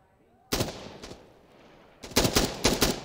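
M4A1 rifle fire in the shooter game Insurgency Sandstorm: a couple of loud single shots, then a quick rapid burst of several cracks after a short quiet gap.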